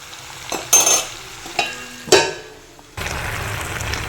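Vegetables being stirred in a frying pan, with several bursts of scraping and stirring over a steady sizzle that grows louder toward the end; no talking.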